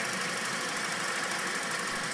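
A small green engine distiller runs without lubrication, giving a steady, even mechanical drone with a faint knocking texture, close and continuous throughout.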